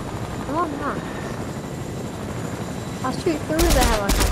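Helicopter and gunfire from a video game run beneath the whole stretch, with a sharper loud burst of firing near the end and people talking over it.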